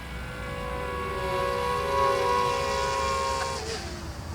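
A DJI Mavic Mini drone climbing at full throttle, its propellers giving off a steady, close, high-pitched whine with layered tonal hum that rises slightly and then dips near the end.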